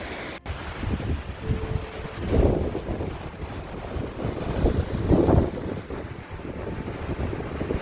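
Strong wind buffets the microphone on the Baltic Sea coast, with a steady rushing roar and surging swells like waves washing in nearby, continuous and loud with no speech.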